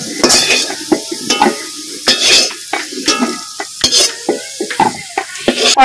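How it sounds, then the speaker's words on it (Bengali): Potatoes fry in a pan as a metal spatula stirs and scrapes them, loud clattering strokes against the pan over a bubbling sizzle, close and continuous. "আলু আমি ভালো করে ভেজে নিয়েছি"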